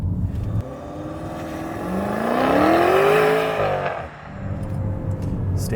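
A 2021 Maserati Levante GTS engine accelerates under throttle from inside the cabin, its note climbing steadily to a loud peak before easing off, with a droning, rumbling tone throughout.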